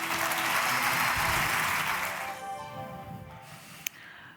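An audience at a live talk in Paris applauds, a full burst of clapping that fades out over a couple of seconds before one sharp knock and quieter room sound.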